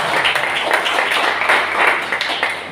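Church congregation clapping together in praise during a sermon, a steady wash of many hands applauding at moderate distance without pause.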